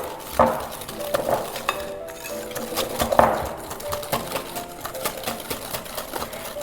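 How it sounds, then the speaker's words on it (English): Egg yolk and caster sugar whisked by hand in a bowl, giving a quick rhythmic clatter and scraping of metal against the bowl. It is close and fairly loud, with a few sharper clinks. "I'm going to add some caster sugar to that and keep whisking"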